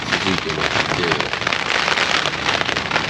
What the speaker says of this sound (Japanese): 夕方からですね、結構 雨が 降り続いてまして